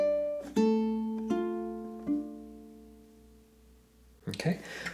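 Ukulele plucking the closing two bars of Greensleeves, a few ringing notes and chords spaced apart and decaying, played alone with a brief rustle at the end.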